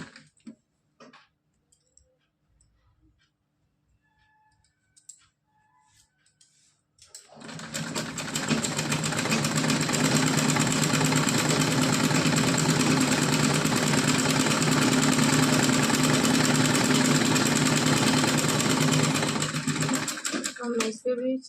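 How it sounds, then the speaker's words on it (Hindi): A sewing machine stitches a small cotton dress for a Laddu Gopal idol. After several seconds of quiet handling noises, a loud, close, continuous motor whir runs for about thirteen seconds before stopping. "फिर इस पे इस तरह से सिलाई लगाएंगे"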